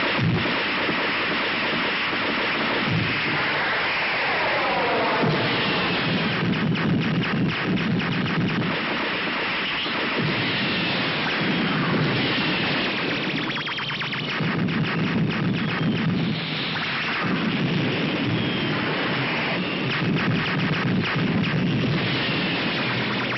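Rapid volleys of blasts and booming bursts from a spaceship fleet's weapons in a sci-fi space battle, loud and continuous with dense, overlapping impacts for the whole stretch.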